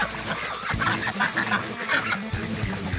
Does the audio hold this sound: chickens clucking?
yes